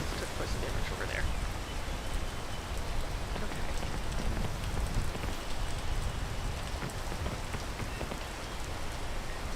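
Steady rain pattering on surfaces in the survival climbing video game PEAK, a dense, continuous hiss of drops with no break throughout.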